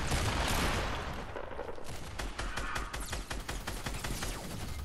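Rapid bursts of video game gunfire from Fortnite ring out in a dense, continuous fusillade of sharp repeated shots, loud and close throughout.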